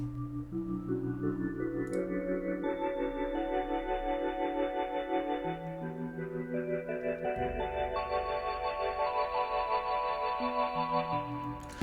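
A Rhodes electric piano plays mellow sustained chords layered over a soft lofi hip-hop beat, with a steady low pulse beneath and warm chords moving gradually upward, fairly quiet and without voices.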